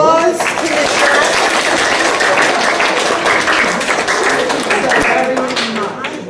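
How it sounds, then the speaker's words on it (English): A round of applause in a maker-group stream on Raspberry Pi projects, a dense, fairly loud burst of clapping that runs for several seconds and tapers near the end, with a voice briefly audible at the start. "Let's give a round of applause to the chat."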